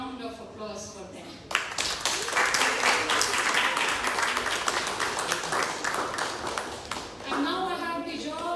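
Audience applause at a jazz festival event, a burst of many hands clapping that swells and holds for several seconds, with a spoken voice at the start and again at the end.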